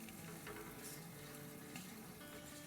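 Onions frying with garam masala in a pan make a steady, faint hiss of sizzling oil, with light stirring scrapes in the background and no talk.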